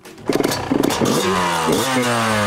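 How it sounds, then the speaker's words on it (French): A Yamaha YZ 125 two-stroke motocross bike starts with a clattering kick and then revs loudly and up close, its engine pitch climbing and holding high. "Vas-y, démarre la moto, c'est parti."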